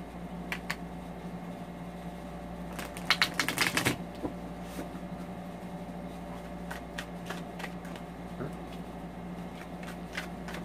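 Quiet room tone with scattered soft clicks and a short burst of riffling near the start as tarot cards are side-shuffled by hand, no talking.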